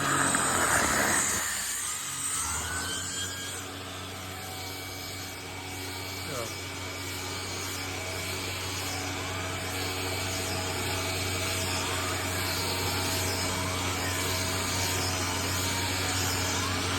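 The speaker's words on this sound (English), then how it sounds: "now here we go with the Hoover WindTunnel Bagless." A Hoover WindTunnel Bagless Twin Chamber vacuum cleaner runs steadily with a whining motor hum and brushing rumble, a brief surge at the start settling into a constant drone, with some talk over it.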